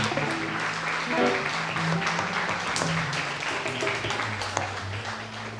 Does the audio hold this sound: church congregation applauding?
yes